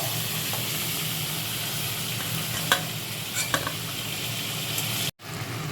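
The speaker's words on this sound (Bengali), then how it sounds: "এবারে চিংড়ি মাছগুলো অল্প করে ভেজে নেব" Prawns frying in a pan for a Bengali chingri malaikari, a loud, continuous sizzle and hiss with a few sharp spatters, then a brief dropout before the frying resumes.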